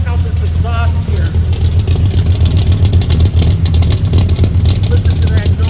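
A 1973 Ford F250 Highboy 4x4 pickup idles and revs, its exhaust giving a deep, throbbing rumble that rises and falls in pulses, loud and close, with someone talking briefly over it.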